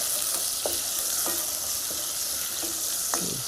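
Vegetables, including pumpkin, sweating in a pan over medium heat for risotto: a steady soft sizzle with a few light clinks from stirring.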